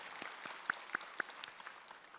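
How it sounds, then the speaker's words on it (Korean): A church congregation claps to welcome new members at a Sunday worship service, with quiet, sparse claps and a few sharper individual claps standing out in a hushed room. "우리 다 함께 힘차게 박수로 환영하겠습니다."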